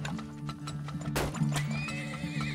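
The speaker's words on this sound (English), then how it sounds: "How many horses do we have now?" Horses in the oil-drilling video game Turmoil neigh and whinny loudly, a sharp whinny rising in the middle over a constant hum and clip-clop of hooves, with no talking.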